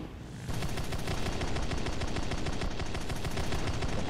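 Sustained cannon bursts from the J7W1 in the War Thunder flight game, heard from the cockpit: quiet engine drone for half a second, then loud, rapid, evenly pulsing gunfire that runs unbroken to the end.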